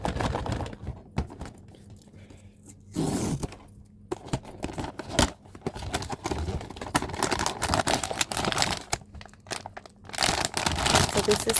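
Crinkling plastic bag handled during an unboxing of a collectible toy, with irregular rustling and crackling bursts across the whole stretch, close and fairly loud, pausing briefly twice.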